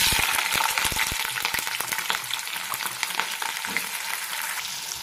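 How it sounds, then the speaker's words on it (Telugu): Onions frying in hot oil for an egg masala curry, a dense continuous sizzle with crackling pops, loud and close, steady throughout with no voices. "ఆయిల్ అయితే హీట్ అయిపోయిందండి ఇందులో వచ్చేసి ఆనియన్స్ అయితే యాడ్ చేసుకోవాలి"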